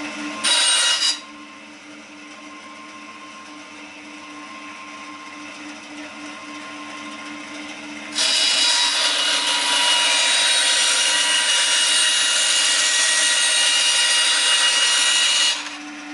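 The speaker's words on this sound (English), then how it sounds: "I'm just going to cut down the center of this pipe to split it into two." A PVC pipe being cut lengthwise down its center with a power saw, a steady loud buzzing cut that drops to a quieter grinding hum midway, then surges back loud and bright until it stops.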